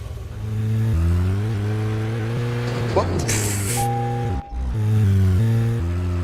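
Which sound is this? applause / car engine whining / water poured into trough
car engine whining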